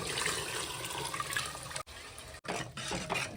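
Lentil water poured into a pot of boiling sambar gives a steady rushing splash that halts twice, briefly, before pouring on again, close and fairly loud.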